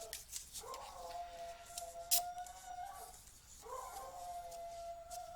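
A big young pet dog howls indoors in two long, wavering howls with a short pause between, fairly faint, plus a brief sharp click between them.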